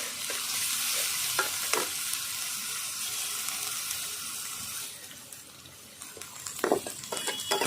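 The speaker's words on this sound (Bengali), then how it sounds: "মশলাটা আমি ভালো করে কষিয়ে নিচ্ছি" Ground paste of onion, chilli, garlic, ginger and cumin frying in a pan, a steady close sizzle with scraping stir strokes, easing briefly then picking up with louder spatters.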